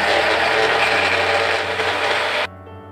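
A kitchen blender whirs loudly while blending bananas and dates with milk and ice for a milkshake, a dense steady roar that cuts off abruptly, leaving only a faint hum.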